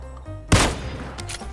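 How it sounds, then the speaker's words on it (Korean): Gunfire in the video game PUBG, a single sharp blast that trails off into lingering noise over steady in-game ambience. "저기 경운기에 총소리 났거든"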